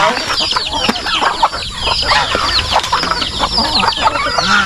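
A large free-range rooster on a farm crows and clucks loudly and close, amid a dense chorus of other chickens clucking all around.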